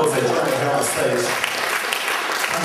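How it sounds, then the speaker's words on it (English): An audience at a magic convention applauds with a dense wash of clapping that fades slowly, while a voice talks over it. "Give them a big round of applause"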